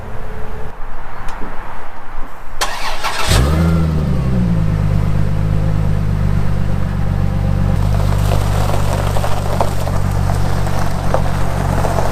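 Plymouth Prowler car starting and pulling away, with a loud close engine roar that rises and then settles into a steady drone, plus rumbling road noise that continues as it drives off.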